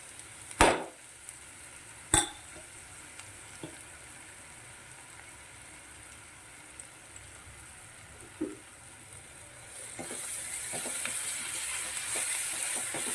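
Crushed ginger, garlic and green chili sautéing with onion in a pan: a few sharp clanks early, then a soft sizzle that swells steadily louder toward the end.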